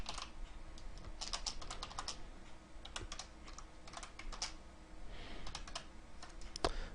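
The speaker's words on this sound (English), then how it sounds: "can't type today, my keyboard's being kind of funky" Rapid, uneven typing on a computer keyboard, close and fairly quiet, with clusters of key clicks and short pauses and no voices.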